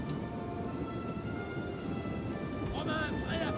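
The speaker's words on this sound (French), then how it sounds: "Alors c'est censé être un effet de pluie là." Game rain from Total War: Rome 2 hisses as a dense, steady patter with a low rumble beneath it, and faint voices and game tones come in near the end.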